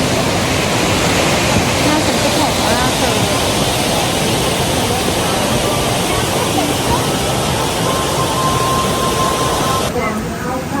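A waterfall near Cat Cat village in Sapa, Vietnam, gives off a loud, unbroken rushing roar throughout. Voices may be faint beneath the roar.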